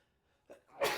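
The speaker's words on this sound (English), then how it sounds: "Now, you're sneezing during videos." A single sharp human sneeze near the end, preceded by a quick inhale, close and loud after near silence.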